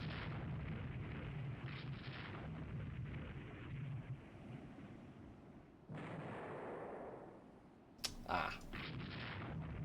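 A torpedo or mine blast in the naval strategy game Rule the Waves 3 sounds as a rumbling, booming wash of explosions and gunfire that fades, then a sharper burst hits near the end.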